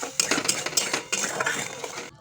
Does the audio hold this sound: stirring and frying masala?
yes